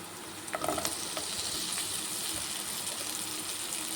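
Okra pieces hit hot oil with onions and a pinch of turmeric in a pan, making a bright continuous sizzle close by, with a few quick stirring clicks near the start and no talking.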